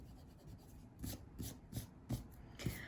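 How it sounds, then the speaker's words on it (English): An eraser rubs out pencil lines on paper in a handful of short, soft scrubbing strokes at an irregular pace, close and quiet, with no voices. "I'm going to erase all those extra pencil lines."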